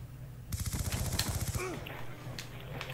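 Rapid automatic gunfire in Call of Duty: Black Ops 2 from a Remington, a dense burst of fast repeated shots lasting about a second, then a short tail of game noise, fairly close and loud.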